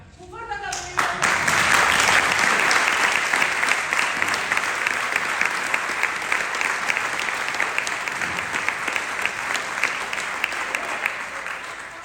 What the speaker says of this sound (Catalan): Així que, un fort aplaudiment.